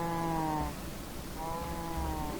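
Minecraft cows low twice, each a drawn-out nasal moo, the first up close and the second slightly softer after a short pause, with no talking.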